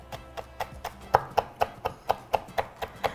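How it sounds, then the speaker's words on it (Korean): A knife slices through an oyster-type green pepper (chili) on a cutting board, cut from the inner side, with about a dozen crisp, evenly spaced chops ringing close and clear. "그래서 반대로 안쪽으로 이렇게 썰어주세요"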